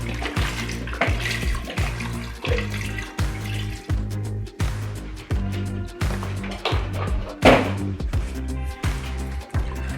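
Store-bought vegetable stock glugs from a carton into a soup pot for sweet potato and chipotle soup, a rhythmic series of close, gurgling pulses that sound like liquid pouring.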